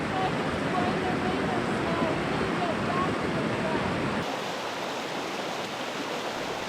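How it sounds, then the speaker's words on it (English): A fast, narrowing creek of freezing water rushes past a steep slope at a trail crossing, a loud, dense, continuous roar that drops noticeably in level partway through. "The creek narrowed and sped up while the slope on our side steepened."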